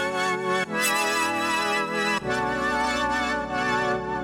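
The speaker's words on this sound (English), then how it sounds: "this is like the brassy main synth" A loud, brassy main synth lead in an RnB and G-funk beat plays sustained chords with a few clear changes across the phrase, full and up close, with no talking.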